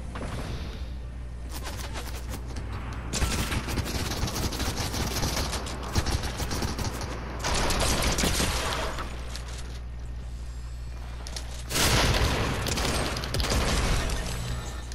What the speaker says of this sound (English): more shooting going on over here